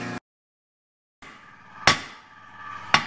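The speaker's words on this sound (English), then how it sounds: "we're going to be hitting this to sharpen, to make that straight edge on the end of that" A steel spring's end being hammered flat into a spud blade: two sharp metallic strikes about a second apart, close and loud, each ringing briefly, after a moment of silence.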